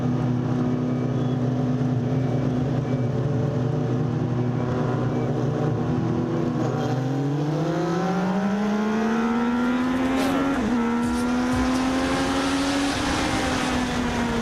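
Legends race cars at Magic Valley Speedway idle together in a steady drone, then rev and climb in pitch as they pull away at the start, loud and close, with engine roar building through the acceleration.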